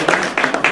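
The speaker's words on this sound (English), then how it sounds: "give him another round of applause" Brief clapping from a group, a few loud bursts of hands close by, short and uneven.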